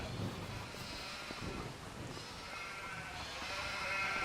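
Sheep bleat in a farm-building video game, a few short wavering bleats rising over a soft windy hiss, moderately close but fairly quiet.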